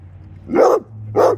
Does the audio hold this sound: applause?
no